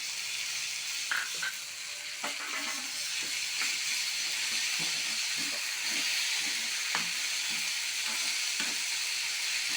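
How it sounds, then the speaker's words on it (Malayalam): Onions softening in hot oil with tomato and chili added for a Kerala green bean theeyal curry, a continuous soft sizzle and hiss broken by occasional stirring knocks. "ഉള്ളി വാടി വരുമ്പോഴത്തേക്ക് പത്ത് തക്കാളി മുളക്കിട്ട് കൊടുക്കുക"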